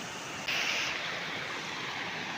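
Floodwater from a flooded river in Konkan pours across a road in a constant broad rushing wash, loud and near, with a slight surge early on and no talking.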